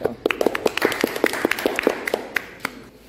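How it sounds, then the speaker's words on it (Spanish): Children's group applause on a kids' television segment in Suchitoto, a lively burst of sharp, close claps with an uneven rhythm that thins out toward the end. "Muy bien, un aplauso."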